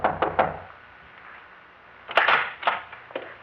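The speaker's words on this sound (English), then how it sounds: "Try knocking." Knuckles rap on a door in a radio drama, three quick knocks, a pause, then another cluster of sharp knocks, close and clear with no talking over them.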